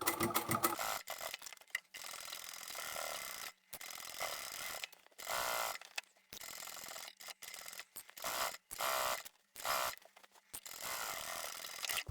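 A sewing machine stitches thick fleece fabric for a book or tablet pouch, running in short bursts of rapid whirring stitching broken by brief pauses, close and fairly loud with no talking.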